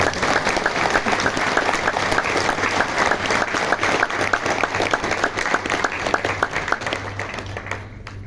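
Sustained applause from an audience at a Hindu religious discourse in a Delhi ashram for Gita Jayanti, dense and steady clapping filling the whole stretch, close and loud, tapering slightly at the end.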